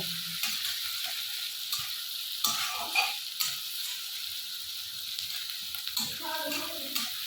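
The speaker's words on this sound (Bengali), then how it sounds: "ক্যাপসিকামটা ভাজা ভাজা হয়ে গেছে" Capsicum frying in a home kitchen pan for a Mughlai paratha gives a steady close sizzle, with a few soft stirring knocks and a brief faint voice partway through.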